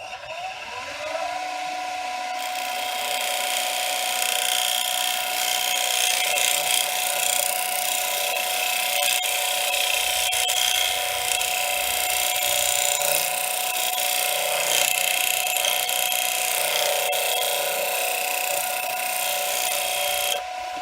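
Wood lathe spinning a turning at 1835 RPM while a tool scrapes across it, a continuous whining motor hum with steady high scraping hiss and small tonal shifts as the cut changes, close and even, no talk.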